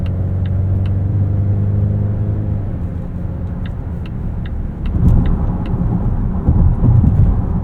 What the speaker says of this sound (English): this 8-speed is responsive, it shifts quickly. It holds gears nicely, utilizing the torque from this 2-liter turbo.